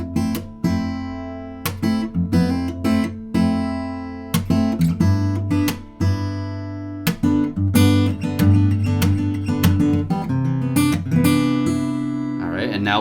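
Guitar strumming the chord transition into the chorus, steady rhythmic strokes with sharp attacks, close and fairly loud, played alone.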